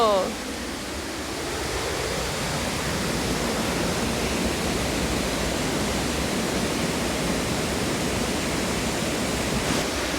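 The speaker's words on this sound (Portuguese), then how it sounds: "Nossa, e a força dessa água." Water rushes powerfully over a river dam in Timbó, a steady loud broadband roar that fills the whole stretch without break.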